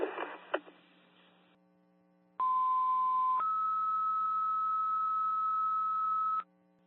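Fire department dispatch alert tones over radio for the Alstead, New Hampshire department, called out for an explosion: a brief low tone followed by a long sustained higher tone, loud and steady, after a short burst of radio static.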